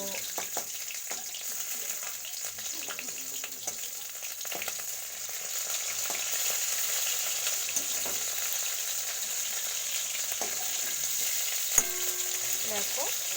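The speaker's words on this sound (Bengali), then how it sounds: "মাছগুলো আমি একদম কড়া করে ভেজে নিচ্ছি" Katla fish sizzles and crackles in hot oil, a steady close-up frying hiss with one sharp clink of a utensil near the end.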